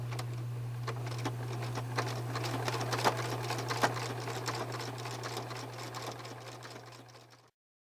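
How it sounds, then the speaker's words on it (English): A sewing machine stitches down appliqué with straight stitches running beside a fold, a steady fast patter with a constant low motor hum, close and moderately loud, running alone until it stops near the end. "So I'm stitching down, my straight stitches go next to the fold, and then it takes one stitch over onto the piece"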